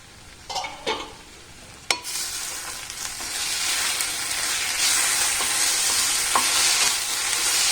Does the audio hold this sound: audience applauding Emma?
no